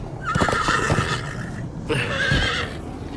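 A horse in the video game Minecraft: Story Mode whinnies twice, loud and close, each call rising then trailing off, with a few dull thuds of hooves beneath.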